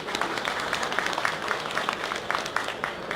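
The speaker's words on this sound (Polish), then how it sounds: "Wielkie brawa dla niego." Audience applause at an angling event, a steady burst of many hands clapping at moderate distance, even and continuous for a few seconds with no talk over it.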